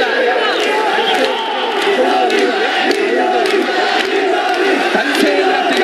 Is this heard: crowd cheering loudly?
yes